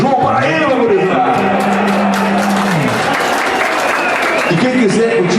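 Crowd applause at an accordion music show, clapping mixed under sustained accordion-like tones and a voice, loud and continuous throughout.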